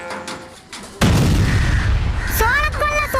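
A firecracker goes off on a farm, a sudden loud close bang that cuts in and leaves a broad rumbling burst; faint voices before it and excited talk after.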